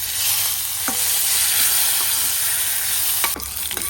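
Cumin seeds, dried red chillies and curry leaves sizzle in hot oil in a pan, a dense continuous crackle with a few sharp spatters and stirring scrapes near the end.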